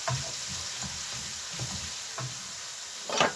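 Crispy chicken pieces frying in hot oil, stirred in the pan, giving a steady close sizzle broken by several soft scraping stir strokes and a louder clatter near the end.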